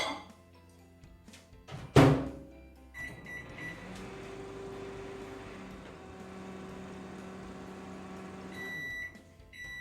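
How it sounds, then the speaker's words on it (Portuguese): A microwave oven heating a glass of milk: a door thunk and a latch clack, then a steady electric hum runs for several seconds, ending with a short beep and a click. "Eu vou colocar no micro-ondas por 90 segundos."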